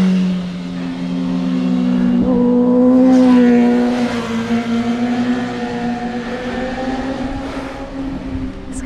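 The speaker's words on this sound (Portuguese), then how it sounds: "Dá uma olhada que essas motos fazem" Motorcycles ride by on a weekend road climb, their engines rising into a loud, steady drone that swells near the middle and then fades off gradually.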